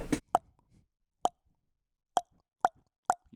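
A person imitates a wood block with tongue clicks made through a rounded mouth, five sharp hollow pops spaced unevenly, close and fairly quiet, following a brief breathy sound.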